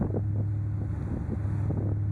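A 1996 Ford Mustang Cobra convertible fitted with long tube headers rumbles through its exhaust in a steady low drone, with a strong hum and wind buffeting over the microphone as it drives.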